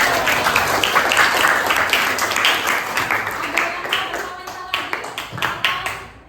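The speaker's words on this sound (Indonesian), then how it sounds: "tepuk tangan untuk Vanessa" Classroom applause for Vanessa, a small group of hands clapping close by at a brisk uneven rhythm that thins and grows more scattered toward the end, with some voices mixed in.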